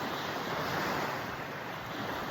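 Ocean waves and wind along a tropical beach shoreline, a steady broad roar of surf with wind noise buffeting the microphone throughout, no voices.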